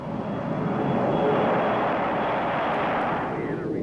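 A B-52 bomber carrying the X-15 #3 rocket plane takes off with a loud, sustained broadband jet-engine roar that stays steady and close throughout, with no talk.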